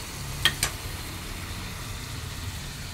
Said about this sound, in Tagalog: gisahin lang muna natin dyan